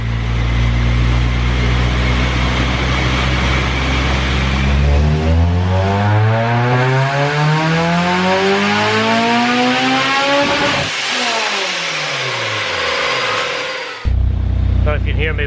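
A tuned car engine on a shop dyno after a clutch install, revving loudly and climbing steadily in pitch through the gears, then cutting sharply before the roar resumes at the end.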